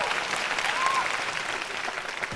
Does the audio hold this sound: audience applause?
yes